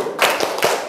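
Students in a classroom clap their hands together for the Tepuk Indian clapping game, producing a few loud, sharp group claps in an uneven rhythm.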